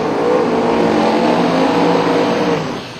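Mustang drag cars, an '02 and a '92 Fox Body, stage at the starting line at a raceway. A loud, sustained engine roar holds steady with rich harmonics, then eases off near the end, with no talk.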